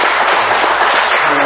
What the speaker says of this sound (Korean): 스스로 자신을 위해서 박수 한번 크게 쳐주시죠